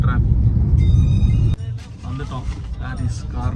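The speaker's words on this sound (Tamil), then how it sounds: "சரியான டிராஃபிக்." Heavy city traffic around Parry's Corner in Chennai: a loud engine rumble that drops off halfway, then quieter road noise under someone talking, with a brief horn-like tone early on.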